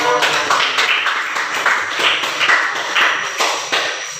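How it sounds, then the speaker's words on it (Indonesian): Classroom audience of students clapping together, a dense run of overlapping hand claps filling the room at steady loudness throughout, close and continuous. "berikan tepuk tangan untuk"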